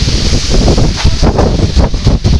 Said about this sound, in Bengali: বাতাস সেই পরিমাণে বাতাস হচ্ছে বন্ধুরা,